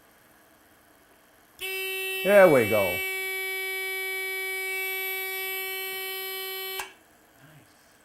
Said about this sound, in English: If it happens twice, we're going to have an alarm.